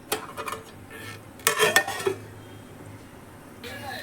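Spice paste (vatan) dropped into a simmering pot in a Goan home kitchen and stirred, giving a burst of scraping and metallic clinks against the pan midway, with soft kitchen noise before and after and no talking.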